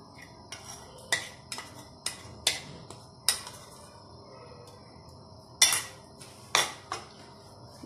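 Roasted dry fruits go into a pot for sheer khurma, an Eid dessert, with a series of sharp metallic clinks and taps of a spoon against the pot at irregular intervals, close and fairly quiet, with no talking.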